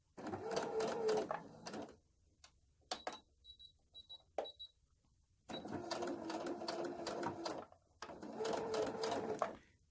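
A sewing machine stitching fabric for small aromatherapy sachets with a short stitch length, running in steady whirring bursts with pauses and clicks between, including a backstitch at the start and end.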